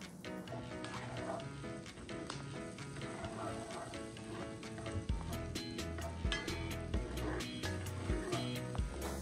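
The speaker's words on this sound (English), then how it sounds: "once that butter melts, you can throw your diced jalapenos into the pan" Diced jalapeños sizzling in two tablespoons of melted butter in a pan: a soft, continuous fry with light popping, fairly quiet and mixed with background music.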